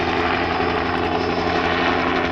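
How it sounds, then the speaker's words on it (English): Helicopter flying overhead at Burning Man 2023, a loud steady rotor and engine roar with a low throbbing pulse, continuous and near, no talk. "That's a news chopper."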